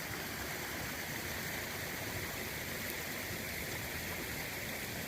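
Small creek flowing along a headwaters trail near Aristes, Pennsylvania, a steady broadband rushing and trickling wash of water, constant and moderately close with no talking.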